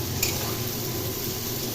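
Onion and two whole chillies fry in a pan of hot oil with a steady, even sizzle and a faint utensil tap near the start, close and continuous, with no voices.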